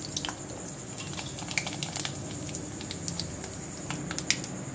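Mustard seeds, urad dal and cumin splutter in hot oil in a pan, a steady close crackle peppered with many quick sharp pops for tomato gravy.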